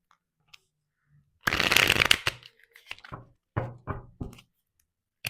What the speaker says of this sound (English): I just have to shuffle one more time.